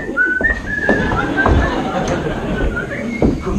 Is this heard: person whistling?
yes